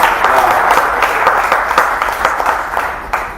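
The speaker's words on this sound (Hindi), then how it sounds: "एक बार आप सब तालियां बजा दीजिए" An audience at a poetry gathering applauds the poets with a dense, continuous wash of many hands clapping at steady loudness, no voices rising above it.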